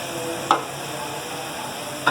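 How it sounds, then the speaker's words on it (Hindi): Tomato and dried plums fry in the pot for a beef yakhni pulao, a steady close sizzle broken by two short clanks of a stirring spoon. "1-2 मिनट इसे फ्राई करूंगी इसमें"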